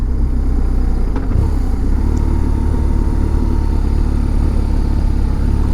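Motorcycle engine held in second gear on a country road approaching a tight bend, a steady close drone with wind rush and no shifting evident.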